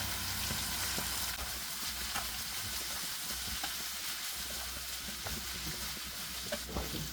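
Sliced onions with salt stirred and frying in a pan give a steady, close sizzle throughout, with soft scraping stir strokes scattered across it and no talking.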